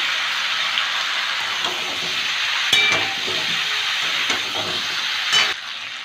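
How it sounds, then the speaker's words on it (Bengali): Vegetables fry with turmeric and green chillies in a pan, giving a continuous bright sizzling hiss with a few sharp clicks from stirring, close and steady with no voices. "এবার সবজিগুলোকে একটু ভালো করে ভেজে নেব"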